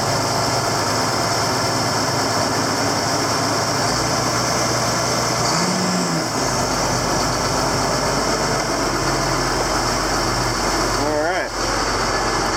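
Vehicle engine idling steadily after an alternator replacement, a broad continuous rumble with a faint high whine from the new alternator as it charges, close and loud throughout.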